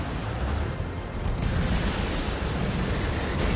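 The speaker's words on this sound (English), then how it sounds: "Last cannon shooting at Raveners for some reason." Tank cannon fire aimed at Raveners in the strategy game Warhammer 40k Dawn of War 2 Retribution: a dense, steady wall of booming blasts and rumbling explosions, loud and unbroken throughout.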